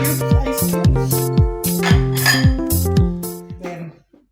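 Ice cubes drop into a glass of mango juice, giving a quick series of bright clinks and clatters at a steady rhythm that fade out near the end, close and fairly loud with no talking.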